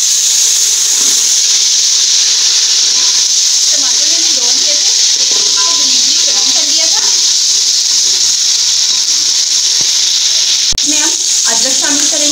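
Tomatoes added to hot oil with onions, a loud steady sizzle and hiss of frying close by, with a sharp clatter near the end and a voice talking over part of it.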